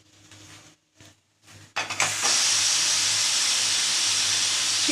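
A pressure cooker holding pumpkin, potato, eggplant, drumstick and beans gives a few faint short puffs, then bursts into a loud, continuous steam hiss once its whistle is lifted, lasting several seconds.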